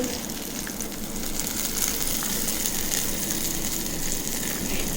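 Oil sizzles and crackles steadily in a pan as green chillies, garlic, curry leaves and coriander fry for a tempering, a continuous hissing fry with small pops, close and fairly quiet, with no talking.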